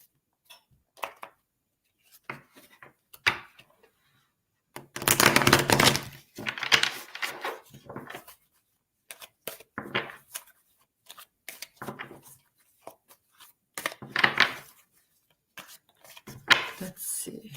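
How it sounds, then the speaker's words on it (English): Tarot cards shuffled and drawn during a live reading: scattered dry riffling bursts and sharp slaps at close range, with a couple of longer denser riffles, alone and fairly quiet between the clatters. "So let me pull some cards for you."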